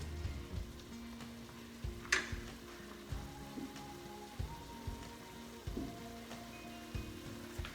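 Meat sizzles in a pot for beef stew, a faint, steady crackle broken by occasional clinks and knocks of utensils, with no talking.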